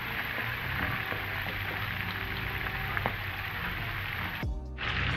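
Parrot fish frying in hot oil, a close, steady sizzle with scattered small pops that cuts out briefly near the end before resuming.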